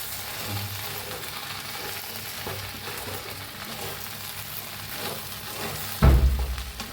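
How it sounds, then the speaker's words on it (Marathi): Okra being stirred with crushed peanut powder in a frying pan, a steady close sizzle with soft scraping, then a louder clatter of stirring near the end. "शेंगदाण्याचा कूट घालते आता याला आपण हलवून घेऊया"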